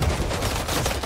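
Gunfire from paparazzi attackers in the Marvel's Spider-Man 2 video game, a brief dense crackle of rapid shots with no voices over it.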